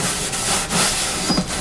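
Light hand sanding of the wood of an Egmond flat top guitar with 1000 grit paper gives a continuous close hiss with soft rubbing strokes rising and falling through it.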